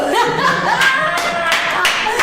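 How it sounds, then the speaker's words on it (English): A round of hand clapping in a conversation about Hinduism and Tirukkural practice: several separate, fairly close claps spaced unevenly over a tonal, voice-like background. "I'm giving you a round of applause for that"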